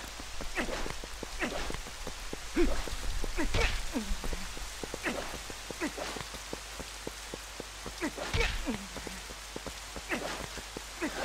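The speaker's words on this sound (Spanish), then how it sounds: "Link, usa el escudo para parar la lluvia." Rain falls in the video game The Legend of Zelda: Twilight Princess, a soft continuous patter mixed with scattered heavier drops and brief low thumps, fairly quiet throughout.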